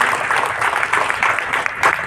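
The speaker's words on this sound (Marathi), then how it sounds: "एकदा सर्वांनी जोरदार टाळ्या वाजवा सरांसाठी." A crowd claps steadily for a teacher at a teachers' chess tournament prize event, a dense continuous patter of many hands at moderate distance with no voices over it.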